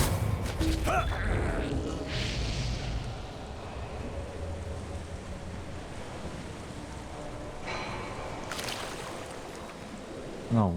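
A waterfall in the Lord of the Rings Online game gives a steady rushing wash of water at moderate level, with a few clicks and game effects and a player talking over it.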